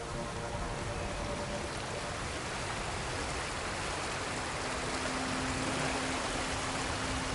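A steady, dense rush of falling water roars continuously from a nearby waterfall in Ghost of Tsushima, a constant broadband wash with no pauses and no voices.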